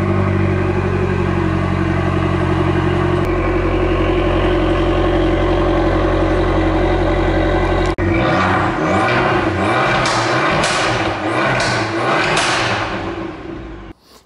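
A 2018 Abarth 695 Rivale engine idles loudly and steadily, then is revved hard several times in quick rising bursts before settling, close and alone with no talk.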